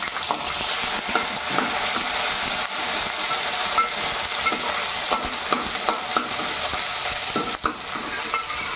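Cumin, green chili and ginger frying in about three ladles of hot oil for a vegetable biryani, giving a loud, steady crackling sizzle with scattered sharp pops and occasional stirring scrapes, close up.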